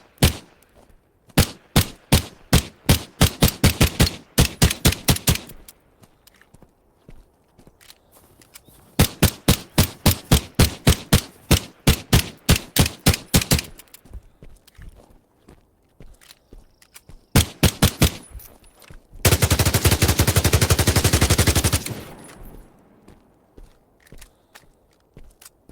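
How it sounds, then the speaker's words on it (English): A pistol in a video game fires while aiming down sights: three bursts of rapid, evenly spaced sharp shots separated by pauses, followed by a short, dense, loud roar of noise. "here's now the aiming down and the firing at the same time"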